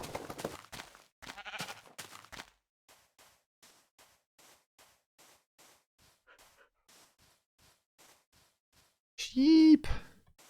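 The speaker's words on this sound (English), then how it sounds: "Sheep." Sheep bleat from a stream sound effect, one loud wavering call near the end after a stretch of quiet clicks and soft chatter.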